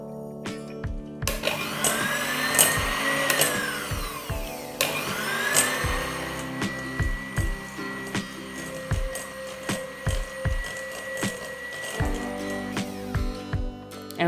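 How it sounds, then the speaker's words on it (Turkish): Egg yolks being whisked with an electric mixer, a steady motor whine with repeated rhythmic thumps as the beaters knock against the bowl, running close and alone for most of the stretch. "Evet, ilk önce yumurtamızın sarılarını çırpacağız."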